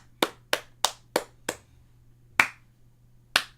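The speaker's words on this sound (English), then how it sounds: "Hey, clappy claps." Hands clap seven times, five quick sharp claps in an even rhythm followed by a pause and two more separated claps, close and crisp over a faint low hum.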